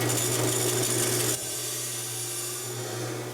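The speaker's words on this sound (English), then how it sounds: "Back to the bandsaw. So now we can cut to length." A bandsaw runs with a steady motor hum while cutting a guitar bridge saddle part to length, the loud buzzing cut stopping abruptly partway through and leaving the machine humming on alone.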